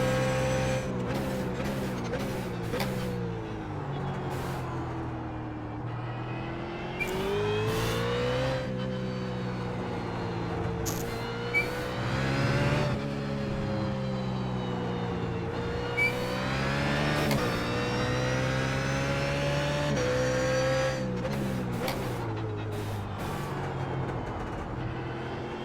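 BMW Z4 GT3 race car in iRacing at Okayama circuit, engine steadily loud throughout with repeated rising revs and sharp upshifts, pitch climbing and dropping through corners, alone without talk.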